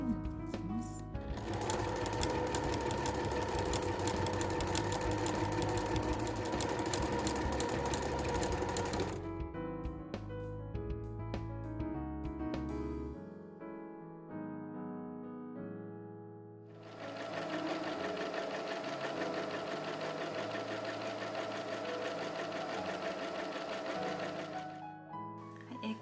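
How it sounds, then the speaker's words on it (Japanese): Sewing machine stitching straight along the curved seam of fabric room pants, a steady loud whir running nearly continuously, pausing briefly midway before resuming. "このカーブの部分も布をまっすぐにして縫っていきます"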